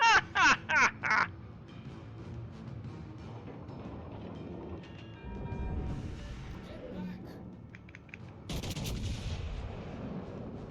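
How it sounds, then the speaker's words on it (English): Naval gunfire in a World of Warships online battle: a rapid burst of four sharp, loud cannon shots at the start, then a later blast, with players talking throughout. "All stations requesting fire on the designated target. Concentrate fire on the enemy warship."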